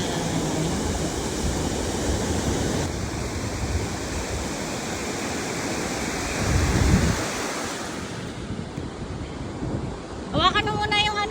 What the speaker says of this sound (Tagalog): Ang lakas naman kasi ng alon.